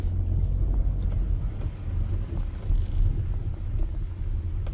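A car with a manual transmission pulls away in first gear on light throttle, its engine giving a steady close rumble that rises slightly, with no talking.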